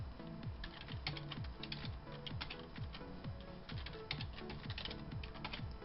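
A password tapped out on a computer keyboard: a rapid, even run of close, light key clicks, continuous and alone with no talk.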